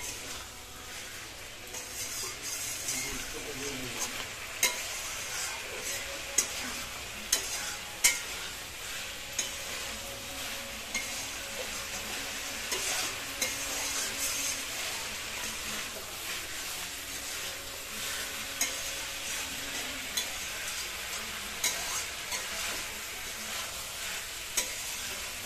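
Tilapia fish curry with cauliflower being stir-fried in a hot pan gives a steady, close sizzle and frying hiss throughout, with occasional sharp ticks and pops from stirring.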